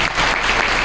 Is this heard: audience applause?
yes